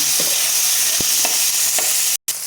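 Tomatoes sizzle steadily in a hot pan, with a few distinct scraping stirs of a utensil over the constant frying hiss and a brief pause in sound near the end.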